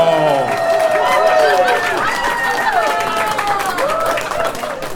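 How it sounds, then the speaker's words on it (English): A comedy club audience claps and cheers in a dense, sustained wash of applause, with overlapping voices and shouts mixed in, fading slightly toward the end. "some of you groan and some of you clap and cheer"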